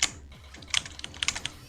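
Computer keyboard keys pressed during a speedrun of the platform game I Wanna Be The HeavenTrap, a quick irregular run of close, crisp clicks and taps with a few louder strikes, no talking.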